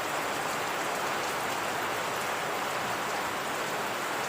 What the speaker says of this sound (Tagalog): Ayan, medyo lumalakas na ang ulan.